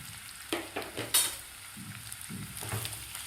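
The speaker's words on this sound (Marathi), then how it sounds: "आता यामध्ये आपल्याला हे कापून घेतलेले करटोले घालायचे आहेत तेलामध्ये" Cut kantola (spiny gourd) sizzles in about two spoons of hot oil in a kadhai, with steady frying hiss and a few clinks and scrapes as the pieces are stirred.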